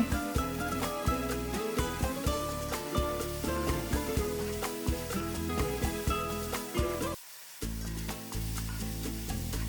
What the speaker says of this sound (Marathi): आता त्याच्यावरती आपल्याला जिरे पावडर आणि धने पावडर टाकून व्यवस्थित परतून घ्यायचे।